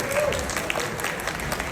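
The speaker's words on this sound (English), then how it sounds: "Applause again to Peter too." Applause from an audience at a Lunar New Year celebration hosted by the Queens borough president in New York, steady and moderately loud, with a faint voice heard briefly over the clapping.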